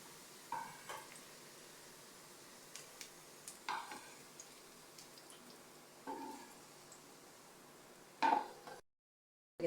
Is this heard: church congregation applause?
no